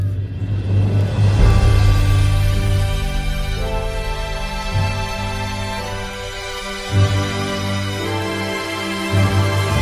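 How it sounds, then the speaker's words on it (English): Theme music for the upcoming season of the video game COD Mobile, a dense, loud stack of sustained synth-like tones over a deep, steady low drone, with chord shifts every few seconds and no voices. "the data miners were able to find their theme song of the next season"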